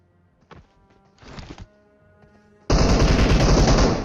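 Gunfire in the mobile battle royale game BGMI: a few faint clicks and thuds, then a loud sustained burst of rapid automatic fire that fills the last second and a half.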